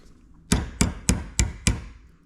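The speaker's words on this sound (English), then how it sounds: "Now I'm just gonna tap this piece with a hammer." Five evenly spaced sharp hammer taps on a Traxxas Hoss RC driveshaft clamped in a vise, close and crisp, with no other sound.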